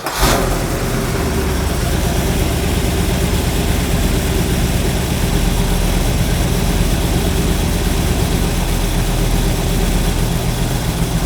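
A stock 327 V8 car engine fitted with an Edelbrock carburetor fires up with a brief crank, then settles into a loud, steady, close idle that runs on without a break.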